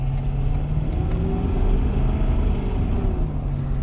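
Steady droning rumble of a 2019 Ford F-350 Powerstroke pickup on 35-inch General Grabber ATX tires cruising a wet highway, heard from inside the cab, loud and continuous with slight engine pitch swells.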